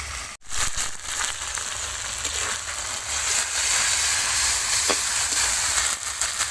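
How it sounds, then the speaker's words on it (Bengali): A spice paste (masala) fries in a pan as turmeric powder goes in, giving a loud, continuous close-up sizzle and hiss. A brief gap near the start is followed by a steady roar of frying. "মশলা এখানে আমি খুব ভালো করে কষিয়ে নিয়েছি। তো এর মধ্যে এবার দিয়ে দেবো হলুদ গুঁড়ো"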